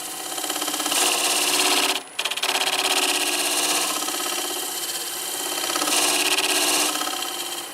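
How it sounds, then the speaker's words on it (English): Negative rake scraper cleaning bark from the underside of a wood-turning piece spinning on a lathe, a steady rasping scrape over the lathe's hum with a brief break midway. "I'm going to see if I can get this bark cleaned up with the negative rake scraper"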